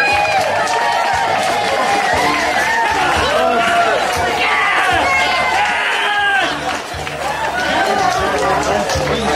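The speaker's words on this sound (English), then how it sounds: "So, an applause for the mariachi." Guests at a Halloween party applaud a mariachi costume amid loud crowd noise, with excited shouts and chatter over a thick layer of clapping and a steady beat underneath, everything close and busy.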